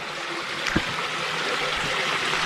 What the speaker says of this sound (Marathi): इकडे झरा आहे बघा दगडी खालून पाणी येते बघा